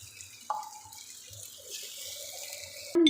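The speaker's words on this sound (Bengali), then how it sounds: "খুব সামান্য পানি অ্যাড করব।" A small amount of water poured into a cooking pot while making a spicy dish of dried fish, eggplant and potato, heard as a brief, fairly faint liquid trickle and splash in a quiet kitchen, with a louder clatter at the end.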